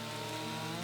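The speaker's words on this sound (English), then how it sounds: "see with a different chainsaw if it causes me any issues" Chainsaw cutting into a tree in Farming Simulator 25, a steady continuous engine drone with dense buzzing throughout, loud and unbroken for the brief moment.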